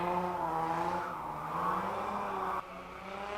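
A G vehicle at a test-and-tune track session thunders close and loud, its engine roar rising and falling in pitch as it passes, with no voices heard.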